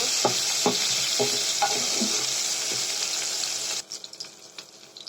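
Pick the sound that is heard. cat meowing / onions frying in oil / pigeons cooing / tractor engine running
onions frying in oil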